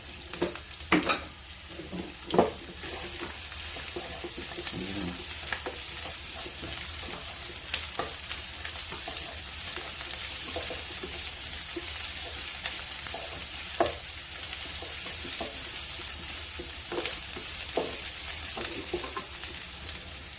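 Onions sauté in a pan with a steady close sizzle, punctuated by scraping and stirring clicks of a utensil, no voices.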